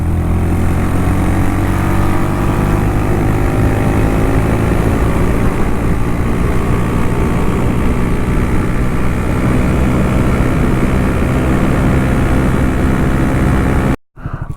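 A Honda Monkey motorcycle with an aftermarket exhaust and intake held at full throttle in third gear, a loud, steady engine drone with wind rush that stays constant for about fourteen seconds before cutting off abruptly.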